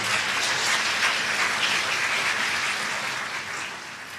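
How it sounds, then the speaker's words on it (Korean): A church congregation claps in welcome as a guest lecturer from a teaching institute walks up, a dense, even wash of applause that holds steady and fades slightly toward the end. "우리 큰 박수로 또 환영해 주시면 감사하겠습니다"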